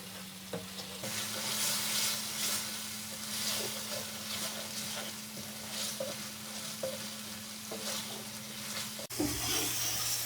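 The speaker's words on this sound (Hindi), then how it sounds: "अब हमने जो अंडे फ्राई किए थे ये इसके अंदर भून लेंगे।" Fried eggs sauté in a korma masala for egg korma, giving a steady loud sizzle with intermittent stirring scrapes in the pan, and a brief clatter near the end.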